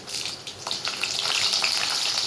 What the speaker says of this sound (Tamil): கடுகு பொறிஞ்சது கடலைப்பருப்பு போட்டுக்கலாம்